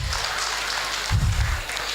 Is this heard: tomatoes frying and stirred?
no